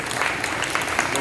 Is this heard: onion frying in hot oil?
no